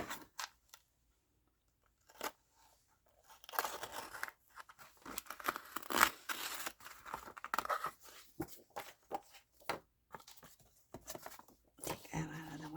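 Scissors cutting a piece off an old book, a run of irregular snips, crinkles and paper rustles close by, starting sparse and then growing busier, with brief speech.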